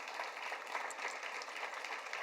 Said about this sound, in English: One more thank you for all of the incredible round of applause for all the sponsors